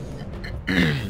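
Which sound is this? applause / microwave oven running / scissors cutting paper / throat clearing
throat clearing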